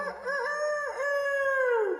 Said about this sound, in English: We have the chicken rooster that crows every morning